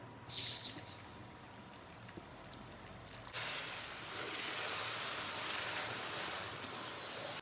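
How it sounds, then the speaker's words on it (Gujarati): Jaggery water being poured into roasted flour with fried cashews and almonds for a homemade desi sheera, a soft splash and then a steady close pour that fills the kitchen quietly with no voices. "તો હવે આપણે આ ગોળનું પાણી કર્યું નાખી દઈએ"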